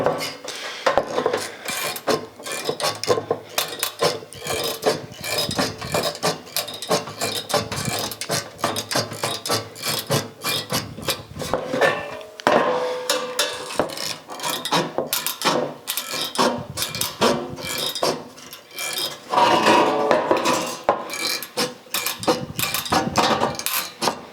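Metal snips cutting on a Plumb Crazy AWD Charger project, rapid irregular snipping and clanking bursts that continue throughout, close and busy, with no speech.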